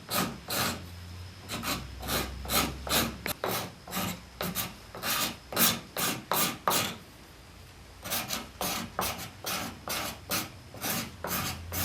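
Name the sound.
scraping wooden chair handhold knuckle curve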